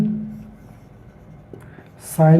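A trigonometric integration expression is written out during a maths lesson, with faint, soft scratching strokes over low room tone before a voice starts speaking near the end.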